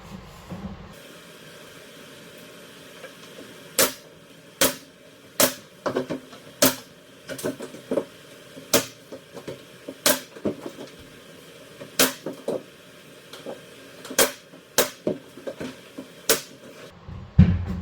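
Door casing being nailed into the jamb of an exterior door, a string of sharp, loud nail-gun shots spaced roughly a second apart, alone with no talk.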